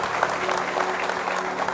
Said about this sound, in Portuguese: Aplauda a Deus por todos esses que estão aqui nessa noite